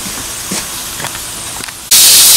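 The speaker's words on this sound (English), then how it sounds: "The steam is getting out" Old-school pressure canner venting steam, first a low background with faint clicks and taps, then a sudden loud, steady broadband hiss bursting out close by and continuing to the end.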